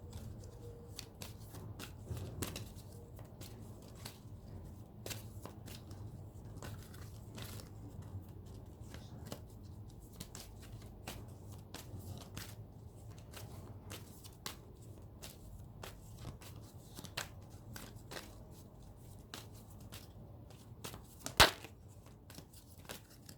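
A large tarot deck is shuffled by hand, giving a long run of close, crisp riffles and card slaps in an uneven rhythm with a sharper snap near the end. No one talks.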